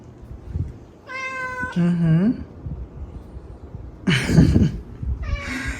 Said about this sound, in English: It's so soft. Such a soft kitty.